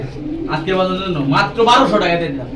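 A male Jabra Punky pigeon coos in low, rolling phrases close by, with a voice layered over it.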